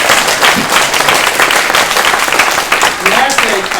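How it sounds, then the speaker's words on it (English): Audience at a building dedication ceremony applauding the team, a loud, sustained, dense round of clapping from many people with some crowd noise mixed in. "Can we all give them a round of applause,"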